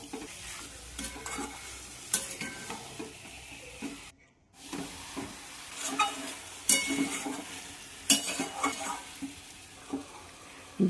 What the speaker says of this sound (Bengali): ভালোভাবে একটু কষিয়ে নিচ্ছি।